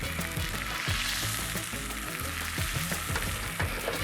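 A thick steak sears in a skillet at a campsite, crackling and sizzling steadily at close range with irregular popping spatters, with no voices.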